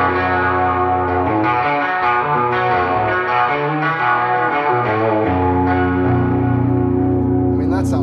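Baritone guitar chords ring out through a washy plate reverb, each strum sustaining into a long, smeared tail; the tone is loud and continuous across the whole stretch, with effects-laden shimmer and no voices.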